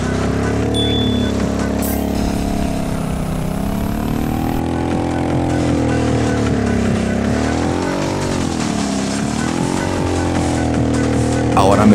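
Truck engine in a ramp-stunt driving video game, a loud continuous droning roar that rises and falls in pitch as the cab climbs and descends the ramps.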